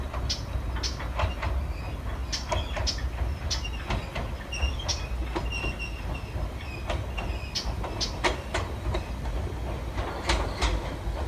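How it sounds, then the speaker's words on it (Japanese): An illuminated train arriving on a line in Chiba toward Choshi, with rhythmic wheel clatter and squealing, bright metallic clicks over a steady low rumble, fairly close, and no talk. "なんかイルミネーション電車が来ましたね"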